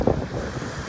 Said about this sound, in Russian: С моря дует небольшой ветер.